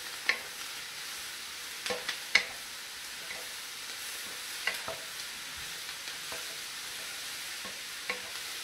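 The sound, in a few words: vegetables frying for veggie fried rice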